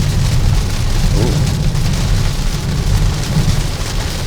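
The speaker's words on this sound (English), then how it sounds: "I guess they don't want to drive with a heavy rain" Heavy rain drums steadily and loudly on a car driving along a highway during a stormy road trip, with a deep rumbling wash underneath and no voices.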